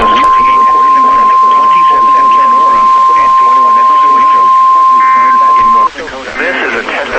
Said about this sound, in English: This is a test of NOAA Weather Radio's warning alarm systems. The attention signals you just heard will automatically activate special receivers